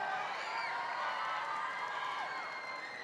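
A large crowd cheers and whoops continuously at a robotics state championship, a sustained roar of voices with scattered applause filling the hall.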